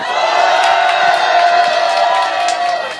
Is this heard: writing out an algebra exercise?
no